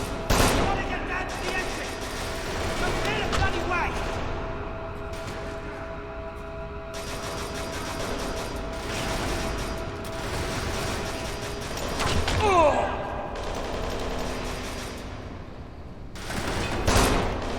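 Sustained gunfire from a bodyguard and AI allies in the video game Kane and Lynch 2: Dog Days, with bursts of shots and mechanical clatter continuing steadily throughout, rising in a few heavier volleys.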